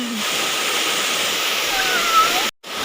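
Steady rushing roar of falling water at the third tier of a waterfall in Mae Kampong village, a dense broadband wash that holds constant before cutting out abruptly near the end.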